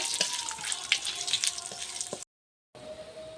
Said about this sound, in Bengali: তেজপাতা শুকনো লঙ্কা পাঁচ ফোড়ন ভালো করে নেড়ে নেব